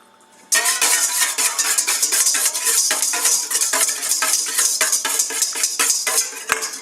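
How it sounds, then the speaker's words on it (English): An egg being whisked in a bowl: rapid, steady clicking and scraping strokes of a utensil against the bowl, loud and close, continuing without pause. "in another bowl we need to break an egg and whisk it"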